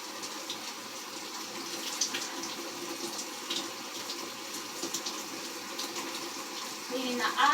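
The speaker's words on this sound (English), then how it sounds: "I'm going to rinse, still with hot water" A shower runs with a steady hiss of falling water, with intermittent splashes and sputters as someone rinses off under it, fairly close and even in level throughout.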